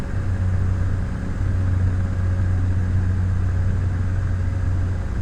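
Aircraft engine drone during a climb in Microsoft Flight Simulator X, a steady low humming rumble with a constant tone, even and unbroken, with no voices.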